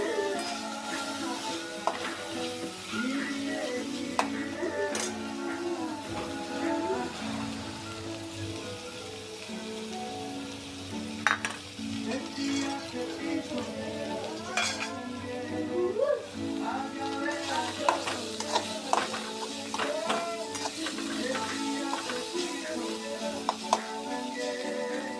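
Biryani ingredients roast in oil in a pan for paneer dum biryani, giving a steady, rain-like crackle with scattered sharp pops and stirring clicks. Faint musical tones run underneath.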